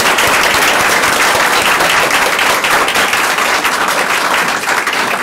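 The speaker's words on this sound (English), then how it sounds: "Now I get applause like that all the time." Loud, sustained applause from the audience at a county commission meeting in Shawnee County, Kansas, thick continuous clapping that holds at full strength throughout without any speech.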